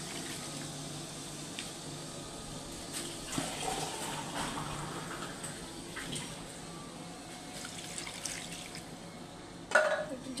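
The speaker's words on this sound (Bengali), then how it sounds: "এখন দিয়ে দেব ঝোলের পানি" Water pours into a pot of chicken curry, cooked with coconut and potatoes, to make the gravy. It makes a steady, moderate splashing that runs throughout, with a louder splash near the end.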